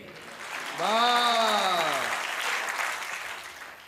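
A comedy poetry show audience claps in a dense burst while one loud rising-and-falling whoop cuts through near the start, and the clapping carries on afterwards.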